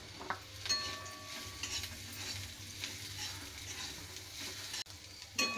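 Mushrooms fry in oil in a pan for a curry while a spoon stirs and scrapes them. A soft, continuous sizzle runs under the scraping, close and fairly quiet, ending with a sharp knock.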